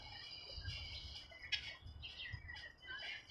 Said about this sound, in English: That's a loud bird. He's really loud.